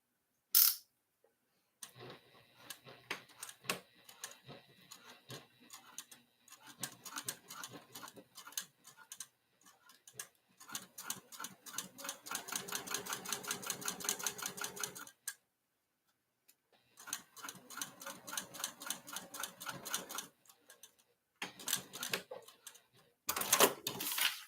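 A sewing machine runs top stitching in quick rattling bursts, rapid needle ticks in runs of several seconds separated by silent pauses, close and fairly quiet.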